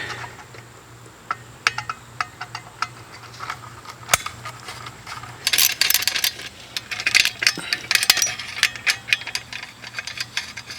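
A ground wire being disconnected from an electrical unit during a Victorian house repair, heard as close metallic clicks, ticks and rattling scrapes, sparse at first and then a busier burst of fiddling, over a low steady hum with no talk.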